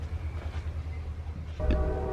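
Deep rumble of a train rolling past close by, with a horn blast sounding over the low roar toward the end.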